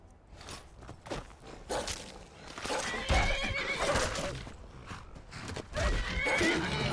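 Horse in the Skyrim video game whinnies loudly and close, mixed with clip-clop hooves and movement sounds that shift through the moment.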